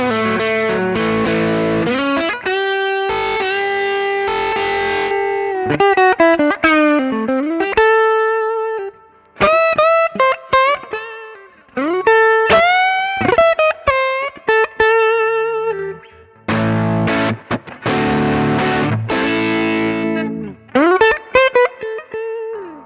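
An electric guitar runs through an Origin Effects RevivalDRIVE overdrive pedal, first playing thick overdriven chords and bent notes, then switching to a cleaner, louder solo with sustained bends and gaps between phrases. No one talks over the playing.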